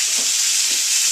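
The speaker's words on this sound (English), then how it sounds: "And we put the turkey in the pan," Ground turkey hitting a pan greased with vegetable oil gives a loud, close, continuous sizzle and hiss, with a few soft stirring bumps underneath, for just over a second.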